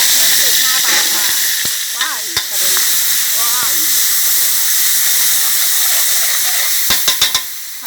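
Red curry paste, red chillies and garlic sizzling in hot oil in a wok for a Thai stir-fry of barracuda with cumin leaves, a steady loud hiss running throughout, with scattered clinks of utensils and a few sharp knocks near the end.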